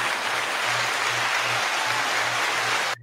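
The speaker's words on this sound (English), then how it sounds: "That one deserves a cheer." Studio audience applauding and cheering, a dense steady wash of clapping that holds for about three seconds and then cuts off abruptly.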